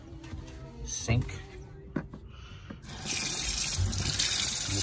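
Water runs from a tap into a bathroom sink, a steady hiss rising and filling the last couple of seconds after some handling noises, while someone talks briefly at the start.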